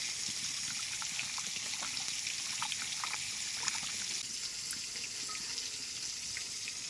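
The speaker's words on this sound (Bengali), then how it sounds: "সেই উস্তেটা ভালো করে ধুয়ে নেব।" Running tap water splashing steadily over bitter gourd being rinsed, with small trickles and drips, close by and continuous.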